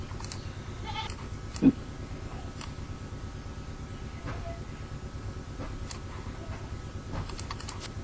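Typing on a computer keyboard while writing a label for a chanachur snack package: faint, sparse key clicks scattered over a steady low hum, with no voices.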